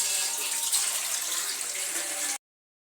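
Water pours steadily into a pot for making sevai (vermicelli) in a village kitchen, a continuous hissing splash that runs close and fairly loud for over two seconds, then stops abruptly.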